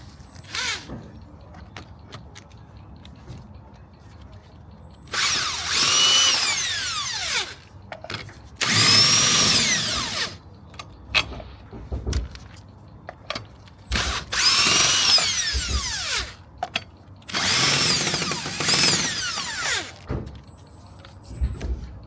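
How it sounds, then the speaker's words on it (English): Impact driver fitted with an 18mm socket loosening car wheel nuts, heard as several loud, separate bursts of whirring and hammering, each lasting a couple of seconds, with short pauses between them. "What we use is an impact driver."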